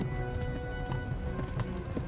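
Horse hooves in the medieval video game Kingdom Come: Deliverance, a quick run of close clip-clop beats over a low rumbling backdrop, with no voice.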